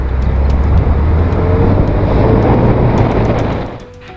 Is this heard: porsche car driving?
yes